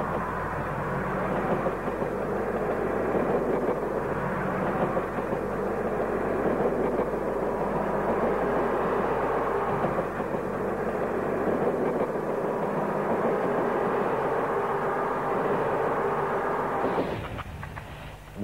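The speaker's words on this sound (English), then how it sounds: "Another green DMU, this one at Birmingham New Street." A green diesel multiple unit at Birmingham New Street gives a steady, loud engine rumble and rolling drone that holds throughout, then tails off near the end, with no talk.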